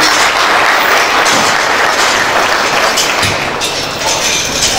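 Loud, sustained crowd applause at the official inauguration of an international agricultural symposium as the president comes up to the stage, a thick continuous roar of many hands that dips slightly near the end.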